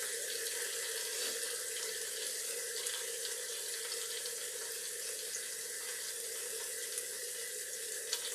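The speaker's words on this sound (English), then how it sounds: "So I'm going to pour this into my measuring cup." Wine poured through an aerator into a large measuring cup, giving a steady, faint rushing trickle of liquid that runs on unbroken, close by and with no talk.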